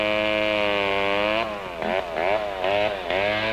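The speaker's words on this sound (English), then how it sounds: "this dangerous type of buzz saw was used in the 30s for bucking firewood" A 1930s gasoline-engine buzz saw bucking firewood drones loudly and steadily, then its pitch dips and recovers in several rhythmic surges as the blade bites into the wood, with no talk over it.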